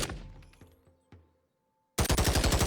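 A Galil rifle chambered in 5.56 fires in the Boneworks VR game, opening with shots that echo and fade to silence, then breaking into a loud, rapid burst of automatic fire.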